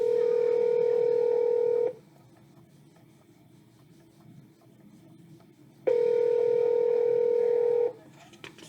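Two long steady telephone tones sound a few seconds apart, each lasting about two seconds, with faint room noise between them.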